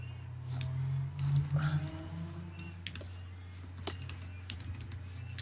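Rapid, irregular clicks of typing on a computer keyboard, with bursts of keystrokes over a low background hum, fairly close and quiet.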